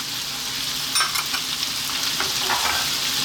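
Garlic ginger paste and fresh chili fry in a pan for a sweet potato coconut curry, a steady close sizzle with scraping stirs and small spatters breaking through around the middle and end.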